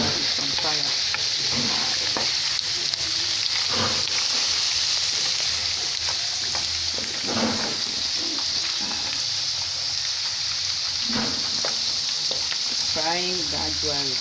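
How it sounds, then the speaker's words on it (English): Plantain chips fry in hot oil with a dense, steady sizzle, broken by occasional stirring scrapes, while birds coo faintly in the background. "Frying gradually."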